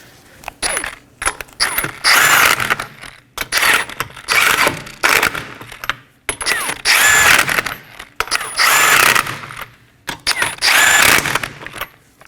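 Wheel nuts on a 2015-2023 Nissan Maxima being snugged down in a crisscross pattern during a rear brake caliper job, giving loud repeated bursts of ratcheting mechanical whirring, each lasting about a second, separated by short pauses.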